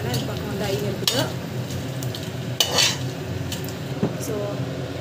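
Sliced onions and green chillies sautéing in a pan for a cooker biryani, a soft continuous sizzle with occasional spoon scrapes and clinks against the pan, close and moderately loud.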